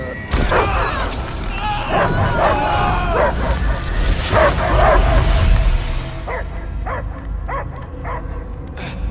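Several loud dog barks and yips ring out over a dense, booming soundtrack in the game Guardians of the Galaxy, followed by a few sharper barks standing out more clearly near the end.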